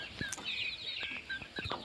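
Three-month-old young chickens, a Japanese bantam cross brood with three cockerels, clucking and chirping in quick, close bursts with a few sharper calls.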